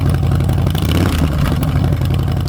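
A 2017 Harley-Davidson Softail Deluxe with Vance Hines pipes, its V-twin engine running in a steady, loud, deep throb that holds evenly throughout with no voices.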